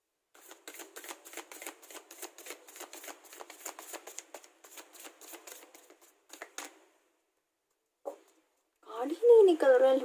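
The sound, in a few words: shuffling oracle cards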